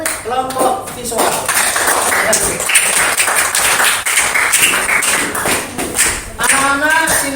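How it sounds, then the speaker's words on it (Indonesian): Children in an elementary school classroom clap for a presenting group, a brisk patter of claps mixed with young voices calling out over it, close and lively throughout. "Tepuk tangan dulu untuk kelompok visual."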